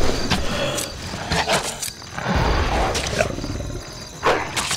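Wolves snarling and growling in a Lord of the Rings video game battle, several harsh roaring bursts at close range over a busy game soundtrack, with no talk.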